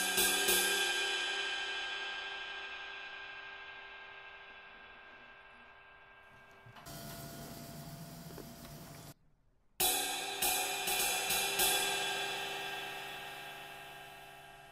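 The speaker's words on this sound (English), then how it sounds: "I started using a necklace that I found from a backstage pass. It was similar to the sound of a rivet because it's little metal beads along a cymbal." A struck metal cymbal rings and slowly decays alone, then after a brief silence it is struck again with a metal bead necklace laid on it, giving a buzzing, sizzling rivet-like shimmer that rings out.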